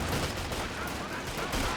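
Rifle fire from Soviet conscripts in Company of Heroes 2 rattles in a dense, continuous volley, with overlapping rapid shots under a loud battle din.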